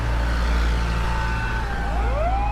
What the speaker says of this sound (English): oh, here's another ambulance.